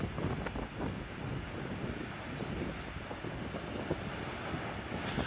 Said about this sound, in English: The sound of water, huh?